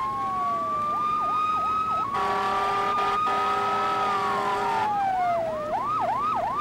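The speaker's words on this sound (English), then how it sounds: "you could hear the sirens going off." Emergency vehicle sirens arrive at a plane crash scene in a storm. Loud, continuous wailing and yelping tones overlap and sweep up and down throughout, with no talk.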